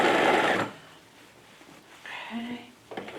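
A sewing machine stitches fabric in a loud, fast whirring burst for about half a second, then quieter mechanical hum and clicks, with a short restart near the end while a person speaks.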